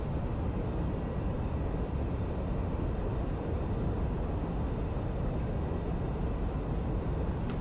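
Steady, dense F-86F jet engine roar from the DCS flight simulator, throttled back during a landing circuit, holding an even broadband rush and hum at constant loudness throughout, with no speech.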